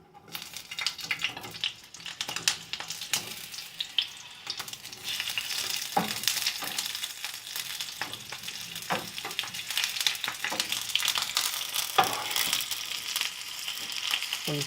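Onion and green pepper sauté in a pan, giving a continuous crackling sizzle with frequent scraping and clicking from stirring, fairly close and without talk.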